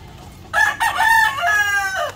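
A rooster crows loudly and close by, with a few clucks around the call, over a quiet background.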